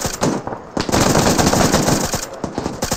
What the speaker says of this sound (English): Bravo returning fire.